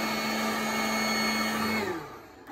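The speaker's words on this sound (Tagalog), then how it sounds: "Kunwari ito, i-vacuum natin." A wireless leaf blower run as a vacuum with a dust collector gives a steady, loud, high whirring drone that holds evenly for about two seconds, then winds down and fades.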